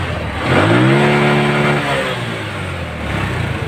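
A motorcycle engine with a faulty carburetor revs up hard, holding a high rising whine for about a second before dropping back to a rough idle, loud and close, emitting black smoke.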